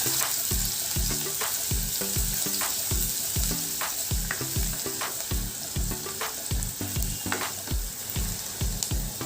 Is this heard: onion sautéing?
yes